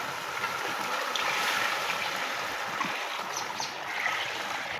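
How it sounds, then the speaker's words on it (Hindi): Warm water is poured steadily into a chicken and chickpea curry, a continuous rushing, trickling splash that runs the whole time with no talking. "अब हम डालते हैं इसमें पानी जो गर्म करके अपने पास रखा हुआ।"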